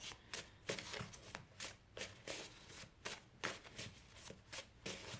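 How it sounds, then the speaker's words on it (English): A deck of oracle-style cards being shuffled by hand, close and crisp, in repeated quick riffles and slides with a steady rhythm and no talking. "if I can even shuffle. These cards are so trippy."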